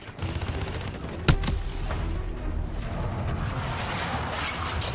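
Gunfire in Call of Duty 4: Modern Warfare during a sniper mission, a sharp loud shot near the start followed by a steady wash of distant firing and battle noise with no talk.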